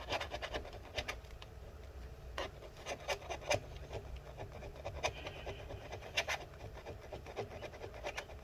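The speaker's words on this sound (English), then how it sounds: "we're just going to continue scraping this." Adhesive is scraped off a part inside a 2012 15-inch Retina MacBook Pro A1398, producing close, quiet, repeated scratchy strokes in an irregular rhythm with no talk.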